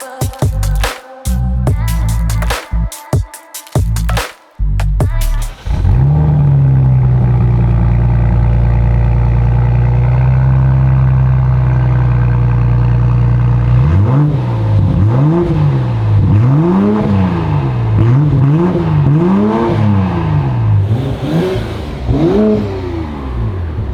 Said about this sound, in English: Got the BMW all done, the M440i with the muffler delete and the tips.